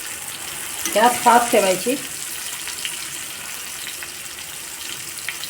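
A large rani fish, prepared agri style, sizzles steadily in a hot pan over a high gas flame, with a voice speaking briefly over the frying.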